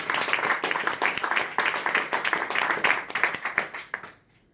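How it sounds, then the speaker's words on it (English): A small audience at a speaking club meeting claps for a speaker, steady close hand claps with an uneven rhythm for about four seconds, then stopping abruptly. "I think she deserves a round of applause for that."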